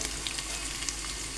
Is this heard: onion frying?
yes